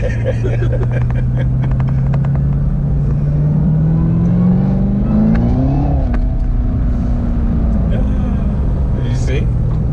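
A car fitted with a Roto Fab cold air intake pulls hard from inside the cabin, its engine note rising in pitch and then levelling off, loud and close, with people talking over it.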